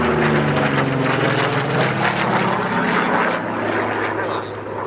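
Vintage propeller aircraft at the Duxford airshow, a loud, steady engine drone with strong low harmonics that slowly fades slightly, heard close and continuous.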